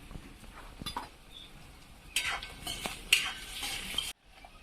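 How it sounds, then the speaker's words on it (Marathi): Onion is fried in oil with a little salt and stirred with a utensil. Soft clinks and scrapes sit over a low sizzle that briefly swells louder before cutting off. "कांदा तेलामध्ये लवकर झाला पाहिजे त्यासाठी मी थोडस मीठ टाकून घेते"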